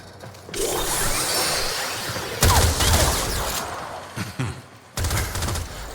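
Weapon fire blasts at targets in Warframe, a loud burst of gunfire with a mechanical whir. It comes in a few heavy surges with short gaps between them, loud and close.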